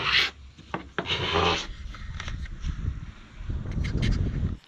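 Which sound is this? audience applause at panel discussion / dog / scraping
scraping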